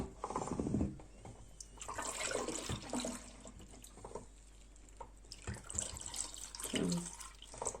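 Homemade orange and lemon juice poured into a jug, a splashing liquid stream with some clinking and handling noises, faint and close, no talk.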